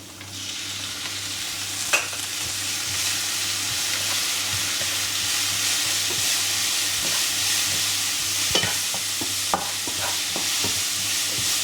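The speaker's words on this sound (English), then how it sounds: "we need to cook this for a couple of minutes to soften up both the leeks and the carrots" Carrots and leeks stir-fry in a hot pan for chicken and shrimp nasi goreng, a steady close sizzle broken by a few sharp scrapes and knocks of the spatula, with no talking.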